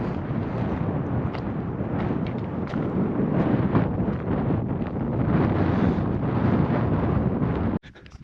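Strong wind roars and buffets steadily for several seconds on the Zugspitze, Germany's highest mountain, loud and gusty against the microphone, cutting off abruptly near the end.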